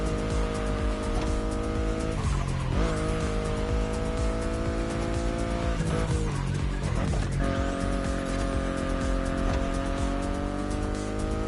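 A BMW i8 in The Crew Motorfest drives hard with a loud, continuous engine drone, its pitch stepping through gear changes, and brief tire squeals breaking in twice.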